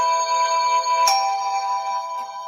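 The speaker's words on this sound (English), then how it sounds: "That's my phone in the background." A mobile phone rings in the background with a bright, sustained electronic ringtone, a sharp chime around the middle, and no voices over it.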